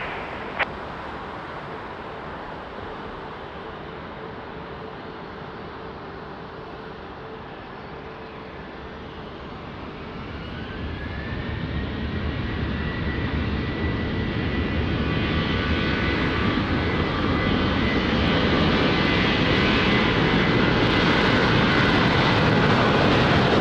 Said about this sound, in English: runway 20 cleared for takeoff.